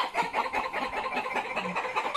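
Chicken clucking in repeated short bursts, fairly close, over a busy background with some general noise.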